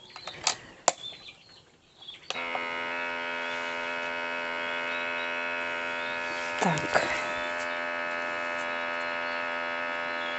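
After a few clicks and handling noises, a vacuum sealer's pump starts on a bag holding a rabbit carcass and drones in a steady, close electric hum for several seconds.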